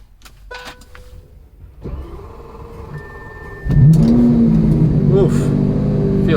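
A Lamborghini Aventador S starts in a parking lot: a sharp crank leads to a sudden loud, deep engine catch that settles into a steady, rumbling idle with rising revs, after quieter cabin clicks and a brief tone.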